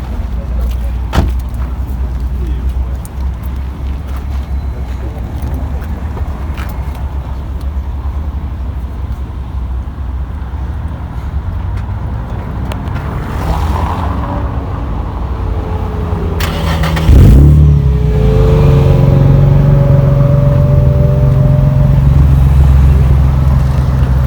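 A Nissan car engine starts partway through with a sudden loud burst, then settles into a steady close idle with rising revs; before that there is quiet background and a little talk.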